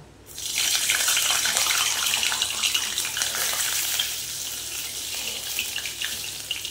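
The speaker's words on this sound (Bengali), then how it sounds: "তেলটা আমার গরমই আছে, সেই জন্যে দিয়ে দেব এই যে শুকনো লঙ্কা" Dried red chilies dropped into hot oil for a lentil dal tempering, setting off a sudden, loud, steady sizzle that hisses on continuously with slight fluctuations.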